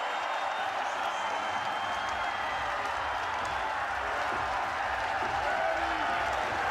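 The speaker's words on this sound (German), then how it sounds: "Der FC Biel jubelt." FC Biel supporters cheer in the stadium after the equaliser against BSC Young Boys, a steady broad roar of crowd noise with applause mixed in, running under commentary throughout.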